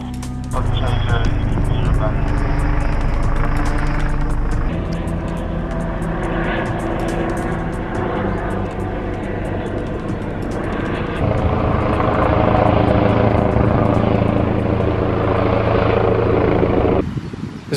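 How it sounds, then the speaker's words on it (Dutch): Police helicopter approaching during a search after a collision on the A2 motorway, its rotor drone and engine whine steady and loud throughout, swelling slightly in the second half, with voices occasionally audible beneath. "Zoals u wellicht begrijpt en hoort, is de heli aanvliegend."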